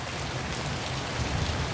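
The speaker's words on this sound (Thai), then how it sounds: "ดูฝนนะคะ อันนี้ไม่ใช่ฝนเดือนหกเนาะ" Steady rain falls in an October downpour over a home garden of flowering ornamental plants, a dense, even hiss that holds at the same level throughout with no voices.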